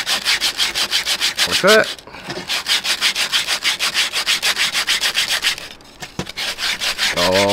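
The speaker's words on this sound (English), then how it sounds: "Gonna give the inside a bit of a sand with it." Coarse 40 grit sandpaper scrubs around the inside of a wooden cradle round, fast rhythmic back-and-forth strokes, loud and close, with two brief pauses and a couple of spoken words.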